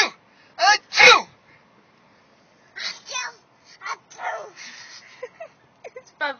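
A dog copies a human sneeze with short, sharp, sneeze-like bursts, some of them yipping, alongside a person's fake sneezes and laughter.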